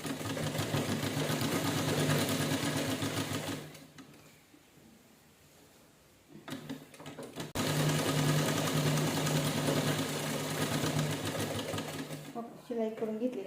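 Sewing machine stitching a cloth bag whirs steadily and close, stops for a few seconds, then runs again in a long even burst, with someone talking over it.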